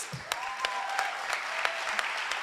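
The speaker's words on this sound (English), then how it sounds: "Sherry, Dr. Mayo, can we give them all a round of applause?" An audience at a completion ceremony claps in a steady wash of applause, with scattered louder individual claps standing out and a brief murmur at the start.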